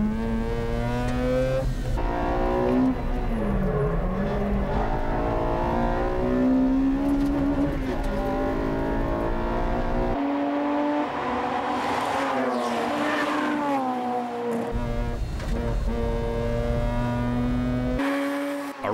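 A Honda Integra Type R and a Mazda RX-8 race through turns, their engines revving high and climbing and falling through gear changes, with tire squeal and a car sweeping past close by, sustained and loud.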